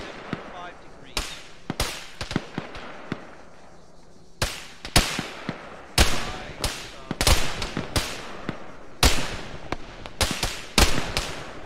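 Sharp, irregular gunshots crack out one after another during a helicopter assault, some in quick clusters and others spaced apart, loud and close over a low background rumble.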